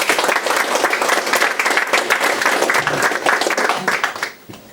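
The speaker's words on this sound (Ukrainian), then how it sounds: "оплесками зустрінемо, так?" Sustained applause from an audience at a press conference, dense clapping filling the room at a steady level before tapering off near the end.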